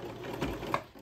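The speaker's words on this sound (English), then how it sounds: "I'm using my cover stitch, but you can use your sewing machine" A cover stitch machine runs as it top stitches a hoodie, giving a steady, fast mechanical whir with a faint rattle throughout. It sounds close and moderately quiet, with no talking.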